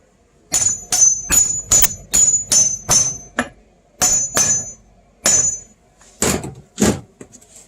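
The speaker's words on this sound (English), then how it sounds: "Hit it with the hammer till it goes in straight." A hammer drives a socket down onto a lawn tractor grease fitting while wheel bushings are changed, about a dozen sharp ringing metallic strikes in an uneven rhythm, close and loud with short pauses.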